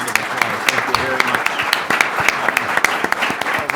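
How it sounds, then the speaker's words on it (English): An audience at a forum on security challenges in Latin America applauds its panelists. The brisk, sustained clapping fills the room for a few seconds, with a few louder individual claps standing out. "Please join me in a round of applause."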